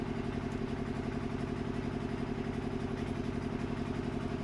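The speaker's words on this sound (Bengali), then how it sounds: "বন্ধুরা, জেনারেটরের শব্দটা হচ্ছে, হয়তো একটু অসুবিধা লাগবে" An electric generator runs nearby with a steady, even mechanical drone and rapid regular pulsing, constant in loudness throughout with no speech.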